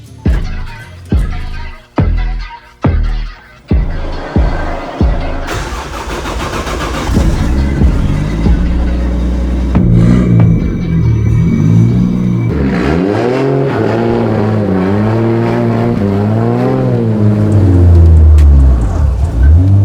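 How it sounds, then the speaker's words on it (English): A 700 hp 2JZ-powered Chevrolet Monte Carlo drift car revs in sharp repeated bursts, then holds at high revs during burnouts with loud, wavering engine roar and tire noise, very close. "Now let's go do some burnouts"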